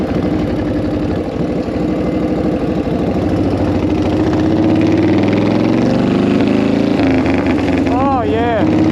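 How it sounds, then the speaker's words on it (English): A loud 1940 Flathead motorcycle engine runs close by with a continuous throbbing low rumble, and a voice cuts in briefly near the end. "I hope y'all can hear me because this bike is pretty loud"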